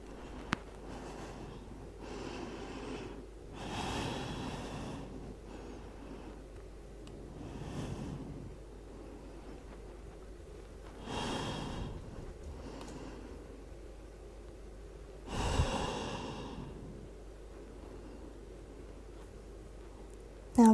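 Heavy breathing during an Ashtanga-style yoga forward fold, with slow, rhythmic, airy inhales and exhales repeating every few seconds, close but fairly soft.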